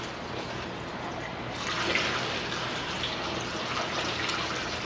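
Running water from a tap rinsing out a trash can at a sink, a steady broadband rush that swells slightly louder partway through and continues evenly to the end.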